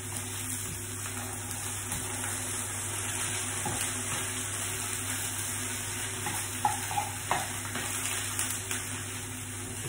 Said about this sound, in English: Turn the steaks over.